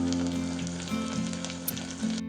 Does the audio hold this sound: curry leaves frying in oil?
yes